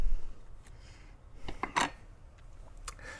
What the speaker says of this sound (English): This is the sound of habanero opening.